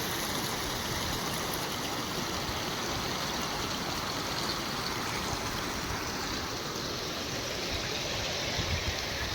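The Mahi River's rainwater rushes steadily and continuously past a check dam, a broad close-up wash of flowing water with no voices.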